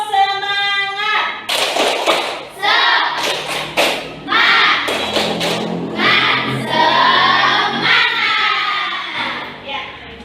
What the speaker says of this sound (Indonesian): Kalau sudah siap, kita tepuk semangat dulu. Tepuk semangat.